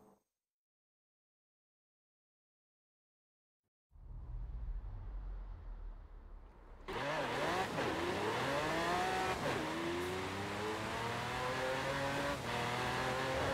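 Car engine accelerating in Forza Horizon 4, starting after a few seconds of silence, then a loud, steady roar with rising, shifting pitch as the gears change, with no talk.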